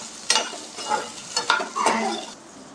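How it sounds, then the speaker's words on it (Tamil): Shallots being sautéed in a pan for Bangalore-style chicken donne biryani, a close, loud sizzle broken by several scraping stirs of a spatula in quick succession. "இதை ஒரு 3 நிமிஷம் வந்து நல்லா வதக்கிக்கலாம்."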